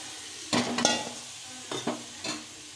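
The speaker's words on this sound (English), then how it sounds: "Now we are putting the marinated potatoes." Marinated potatoes are stirred into a hot frying pan while cooking aloo dum biryani, producing a few quick scraping stirs over a steady sizzle, close and clear with no talking.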